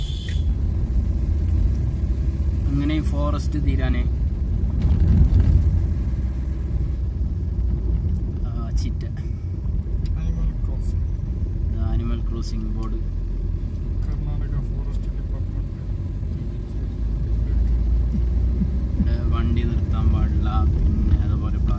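A car drives along a forest road with a steady low rumble of engine and tyres, while someone talks over it almost throughout.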